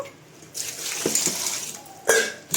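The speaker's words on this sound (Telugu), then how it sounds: "ఇప్పుడు శుభ్రంగా అయితే ఇంకా ఆకుని కడిగేస్తున్నాను" Radish leaves being rinsed in water, with running tap and sink splashing that comes and goes in bursts, including a sharper splash near the end, close by and moderately loud.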